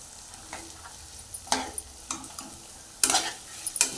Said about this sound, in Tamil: சேர்த்து அது ஒரு பக்கம் நல்லா வதங்கட்டும்.